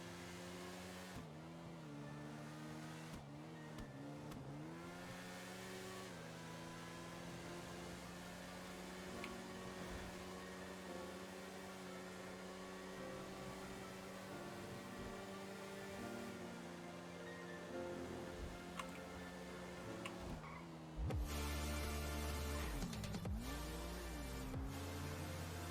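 Supercar driving in GTA Online, a quiet sustained engine tone with gear-change shifts and pitch sweeps, ending in a louder burst of rumbling noise near the end.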